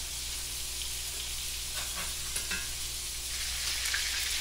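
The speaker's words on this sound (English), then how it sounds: "We're just going to go back in that gravy and cook until it's done." Fatty hamburger steak frying in gravy in a pan: a steady, close sizzle with a low hum beneath and a few brief bubbling pops, with no talking.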